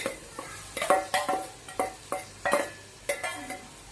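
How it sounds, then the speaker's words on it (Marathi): Cluster beans stir-fried with tomato in a pan, heard as a near, steady run of spatula scrapes and light clinks, about a dozen sharp strokes over a soft sizzle, with no voices. "आता आपण यामध्ये भाजून घेतलेली गवार आहे ती त्यामध्ये टाकून घेऊया"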